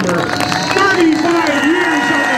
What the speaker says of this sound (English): let's hear a nice round of applause for the one and only flying farmer